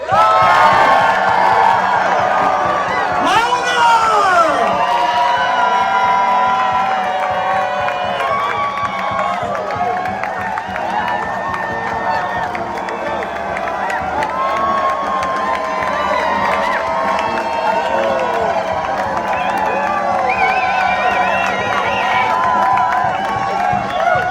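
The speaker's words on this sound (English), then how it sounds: "Can we have the largest, greatest round of applause and cheer?" About 800 people at an outdoor rally cheer, whoop and shout in a long, loud, sustained roar that swells early and stays dense to the end.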